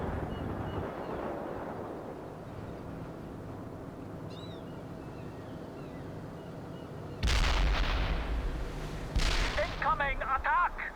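Incoming artillery in a World in Conflict battle lands as heavy booming impacts that break over a steady low battlefield rumble, loud and close, with a soldier's shouted radio voice coming in near the end.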